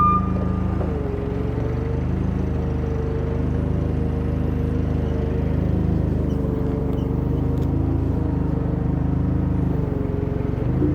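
An International Harvester 1066 tractor with a failed steering cylinder idles steadily with a loud, low diesel rumble as the wheels are turned, a faint whine rising and falling over the constant engine drone.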